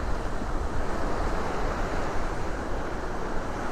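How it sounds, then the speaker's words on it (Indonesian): Extreme ocean waves crash steadily on the shore, a continuous loud broadband roar of surf mixed with wind buffeting the microphone, no voices. "kondisi cuaca yang ombaknya ekstrim banget di sini"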